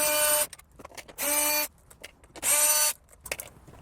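A power ratchet or drill whines in three separate bursts, each about half a second, while unbolting 10mm bolts from the dash of a 2016-2021 Toyota Land Cruiser, with quiet clicks and handling noises between bursts.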